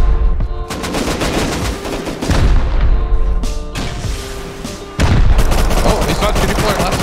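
Rocket launcher and gunfire in a Rust fight, with dense, loud bursts of shots and booming blasts running almost nonstop, including a sharp heavy hit near the end, with faint voices mixed underneath.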